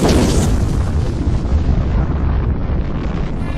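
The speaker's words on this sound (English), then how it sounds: "Where will you be when the atomic bombs fall?" Atomic bomb explosion in a Fallout game trailer: a loud, sustained rumbling boom with roaring, wind-like turbulence that stays dense and heavy throughout, no voices.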